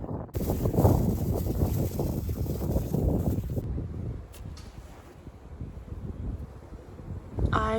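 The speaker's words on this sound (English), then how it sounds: "it's not possible to talk during this wind" Strong wind gusts buffet the microphone outdoors on a bench in a Russian neighborhood among green trees, a loud steady roar that eases midway and surges again at the end.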